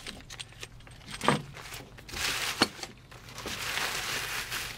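Keys jangle inside a hardware kit for an AeroBox installation, with a few close metallic clinks and rustles of the bag and a louder jingle near the middle.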